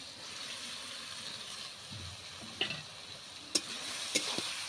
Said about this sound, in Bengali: ওর মধ্যে দিয়ে দিচ্ছি এই যে কষিয়ে রাখা আলু আর কুঁদরি